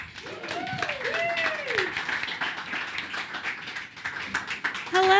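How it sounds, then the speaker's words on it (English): Audience at a Cannes Lions 2026 panel lounge applauds a moderator taking the stage, a steady wash of clapping lasting several seconds, with whoops and cheering voices rising above it early on. "Let's give her a huge round of applause"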